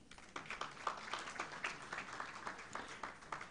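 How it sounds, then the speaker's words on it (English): Scattered clapping from a small group, fairly faint and somewhat distant, with uneven claps continuing for a few seconds. "Clap yourselves."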